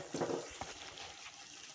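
Water is poured into chapati dough in a home kitchen: a short, soft splash and trickle near the start, then quiet handling noises, all faint.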